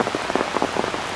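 Light rain falls outdoors near a street, a dense, steady patter of drops on hard surfaces, close and even, with no talking.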